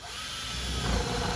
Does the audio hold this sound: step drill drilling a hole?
yes